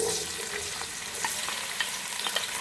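Finely chopped onions frying in hot oil for a turnip chicken curry: a continuous, close crackling sizzle broken by light stirring clicks, with no talking.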